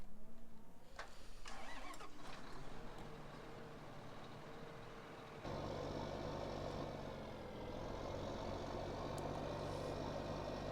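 A 190-horsepower tractor in Farming Simulator 15 runs with a steady mid-pitched engine drone, then the engine note steps up abruptly to a louder, fuller rumble that holds steady.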